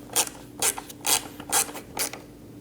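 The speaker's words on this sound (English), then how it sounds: "Get both of the screws nice and snug." Screws are driven snug into a center tailgate light assembly on a 2011 or later Dodge Durango. About five evenly spaced bursts of ratcheting clicks sound close and alone.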